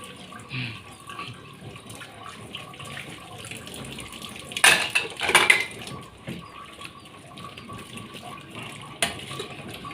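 Tap water runs steadily while dishes are washed at a sink, a soft continuous stream with a couple of louder splashing clatters in the middle and a brief knock near the end. Faint voices murmur in the background.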